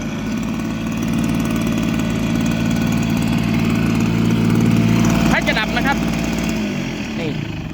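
A small engine on a rice broadcasting machine runs at a steady idle, a close mid-pitched throbbing drone that holds throughout, with a person speaking over it near the end.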